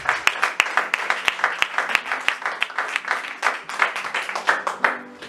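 A church congregation applauds loudly and steadily for a few seconds, sharp individual claps standing out over a dense bed of hand clapping, with no talk over it.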